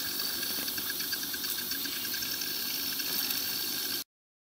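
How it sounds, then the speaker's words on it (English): Fuel trickling and overflowing from a swirl pot in a Ford Cougar's fuel system, a steady hissing, splashing liquid flow heard up close for about four seconds before cutting off. "Here's my little fuel swirl pot overflowing beautifully"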